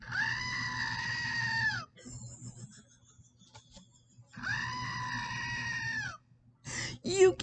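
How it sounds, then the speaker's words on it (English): A Screaming Goat novelty toy lets out two long, loud, wavering human-like screams separated by a quiet pause, then a short clipped squawk at the end. "Maisie hates it when the goat screams"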